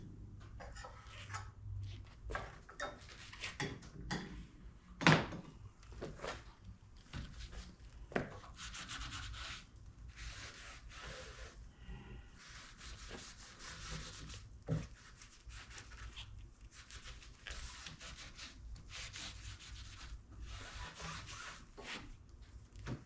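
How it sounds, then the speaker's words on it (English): A scraper works over the surface of a wooden stump table in uneven rasping strokes, up close and fairly quiet, with small knocks and pauses between passes. "Scrape what you can off of it."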